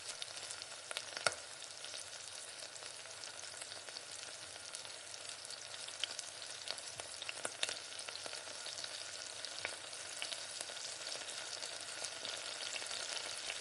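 Onion, garlic, green chilli and a few coconut pieces sauté in hot oil in a pan for an eggplant curry, giving a steady, dense crackling sizzle with scattered pops and no voices.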